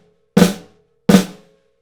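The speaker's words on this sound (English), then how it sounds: "If I play the grace note louder," A snare drum plays two separate flams with a loud grace note, each a fat doubled stroke, evenly spaced and loud, ringing briefly before silence.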